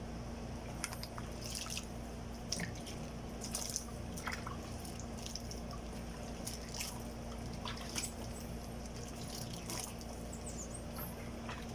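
Water drips and trickles over a wiper blade as it is rinsed, a quiet, steady run of small splashes and dribbles with occasional sharper drops, close by and alone without any talk.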